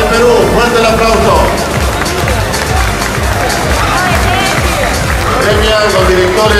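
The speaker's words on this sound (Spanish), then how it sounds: "Fuerte el aplauso." Large crowd at the Miss & Mister America IFBB Cup 2023 bodybuilding contest applauding and cheering the overall master bodybuilding champion, a loud, steady wash of clapping and crowd noise throughout.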